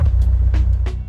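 In the Japanese version of GTA San Andreas, a car runs over a pedestrian with the bone-crack sound disabled, leaving a steady low engine rumble with a few soft brief thumps over about a second.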